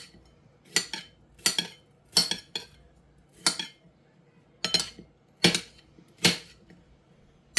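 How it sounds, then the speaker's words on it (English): Knife blade striking a cutting board while orange and yellow bell peppers are sliced, a smaller and a larger knife in use; crisp, close chopping clicks come in irregular clusters of two or three with short pauses between. "Now I cut the orange pepper with a smaller knife, and I'm cutting the yellow pepper with a bigger knife"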